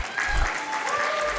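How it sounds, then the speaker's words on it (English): Audience applause at a Summer Games Done Quick 2023 charity speedrun event, a dense burst of clapping from a live crowd, fairly close and loud, with a voice speaking over it. "let's give another round of applause to Spike, Vegeta, Shockwve, and Humphrey."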